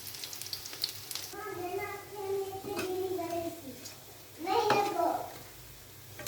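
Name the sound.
spinach pakoras frying in oil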